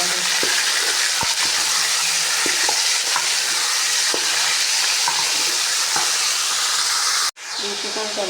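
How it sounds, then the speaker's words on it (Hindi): Chicken sizzles and fries in a pan with a constant hiss while a spoon stirs it, giving soft scrapes and clicks throughout, then the sizzle briefly cuts out and resumes. "चिकन को भी थोड़ा फ्राई करेंगे जब तक इसका कलर नहीं चेंज हो जाता थोड़ा सा।"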